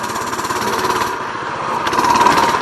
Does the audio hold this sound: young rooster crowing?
no